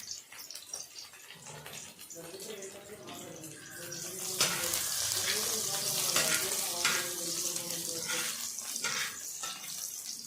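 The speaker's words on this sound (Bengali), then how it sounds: "এরপর দিয়েছি কুচনো পেঁয়াজ এগুলিকে খুব ভালোভাবে ভেজে নিয়েছি" Chopped onions frying in hot oil with cumin, a loud crackling sizzle that swells midway, with scattered stirring scrapes and clinks.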